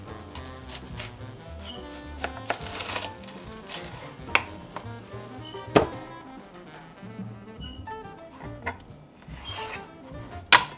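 A knife cuts through an onion on a board, giving a scattered run of sharp, close chopping taps with a few louder hits over a busy background, no voice.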